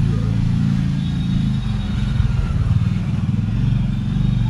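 A motorcycle ridden through congested traffic in Amtala near Kolkata gives a steady, close engine rumble and road noise throughout, with other vehicles blending into the continuous drone.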